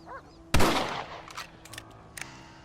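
A single sharp, loud rifle shot rings out in the Western game Red Dead Redemption, followed by a decaying echo and a few fainter clicks and distant reports.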